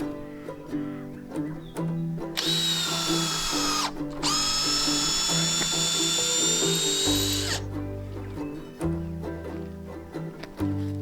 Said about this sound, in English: By pre-drilling the timber, it means I'm not going to split the timber